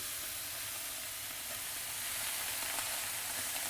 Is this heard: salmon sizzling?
yes